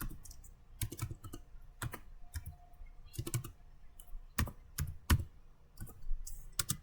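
Typing a command on a computer keyboard, irregular close key clicks and taps in short bursts with a few louder strikes, quiet and alone with no talk.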